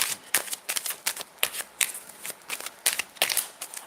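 Tarot cards being shuffled by hand, a quick series of crisp riffling snaps and slaps in an uneven rhythm, close and clear with no talking.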